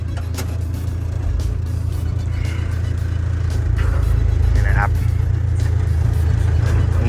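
A Caterpillar 313CSR 12-ton excavator with a slide boom runs during a test drive. Its loud, steady low engine drone fills the whole stretch, with a voice briefly heard over it.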